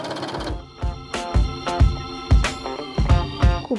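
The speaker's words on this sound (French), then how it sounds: "Je vais réaliser une surpiqûre à 5 mm du bord sur toute la longueur pour la surpiqûre au-dessus" A sewing machine topstitches a small shoulder bag with a long stitch, running in short stop-start bursts of clattering needle strokes, with a sharp knock at each restart, close and fairly loud.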